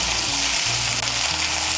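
Ginger and garlic paste sizzles as it is stirred in a hot pan for a vegetable and paneer curry. Close, steady frying hiss continues throughout, with faint low scraping underneath.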